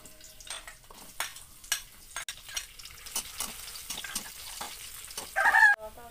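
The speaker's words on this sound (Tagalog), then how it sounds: "Tapos, igisa tayo di bawang no napulot to." Garlic sautés in a pan for an Ilocano dish, with a low sizzle broken by scattered clinks and scrapes of a utensil. A brief, rooster-like call rises near the end, and no one talks.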